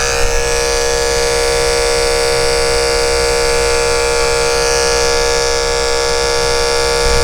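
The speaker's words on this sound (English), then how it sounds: "I'm turning the clipper sideways and just kind of trying to slice through the mat a little bit." An electric pet clipper runs continuously while held sideways, slicing through matted fur on a Maltese's head, giving a loud, steady, close buzzing hum with a fixed pitch and no breaks or talking.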